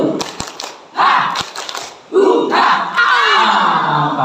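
A group of preschool scout children and their leader perform a rhythmic spirit clap chant, with sharp clap bursts and shouted chanting voices rising in loud waves, close by.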